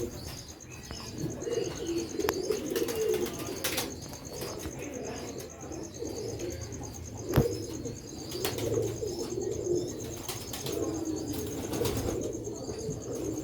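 Sialkoti pigeons coo softly over a steady outdoor background, with occasional wing flaps and a sharp thump partway through.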